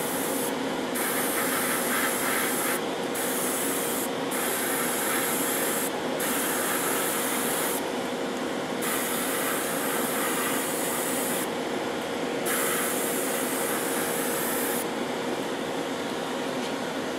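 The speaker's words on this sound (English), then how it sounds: "we're going to spray this with" Steady hiss of an aerosol spray can applying semi-gloss black paint to Tamiya RC Freightliner Cascadia model truck parts, in repeated bursts of a second or two with short pauses, close and continuous over a low background hum.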